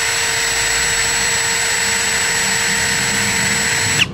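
A DongCheng DCJZ2040 cordless impact drill spins at speed setting 1, a loud, steady motor whine with constant tonal pitch held throughout, cutting off abruptly at the end.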